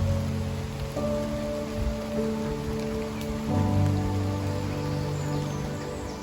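Steady rain falls in a wood in a continuous soft patter, with a low hum and faint tonal sounds running underneath.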